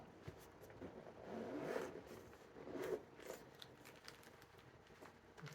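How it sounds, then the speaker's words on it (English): A smooth zipper on a camera bag is drawn open in two soft, quick pulls, faint and close, with light handling rustle around it and no talking. "It's like a seamless zipper, real smooth."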